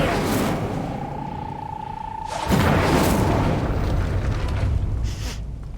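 A fiery spell erupts in Hogwarts Legacy: a thin tonal whine fades, then a loud broad whooshing burst swells and roars on for several seconds before tapering off.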